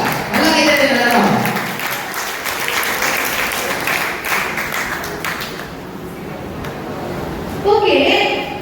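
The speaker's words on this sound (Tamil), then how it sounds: "நல்லா கைத்தட்டல் நடக்கும்." An audience at a church youth program claps for a youth team's drama, with loud sustained applause that fades, then briefly swells again near the end.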